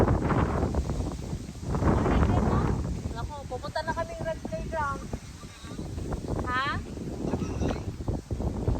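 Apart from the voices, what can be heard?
strong wind in a park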